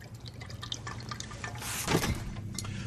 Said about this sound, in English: Now, all we have to do is drain out the water, which we want to reserve for later use.